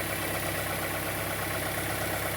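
A Fiat Fire 1.0 gasoline engine idles steadily up close, a continuous mechanical hum with a faint rhythmic knock that points to a strange noise under the running sound, with no voices.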